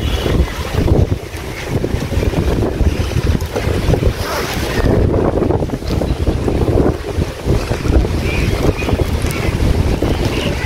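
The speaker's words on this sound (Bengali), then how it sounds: "বাতাস প্রচুর," Strong wind sweeps through Ramna Park in Dhaka, with trees swaying; it comes across as a loud, continuous roar buffeting the microphone throughout, with no voices.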